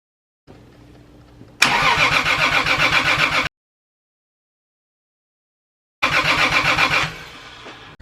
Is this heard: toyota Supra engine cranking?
yes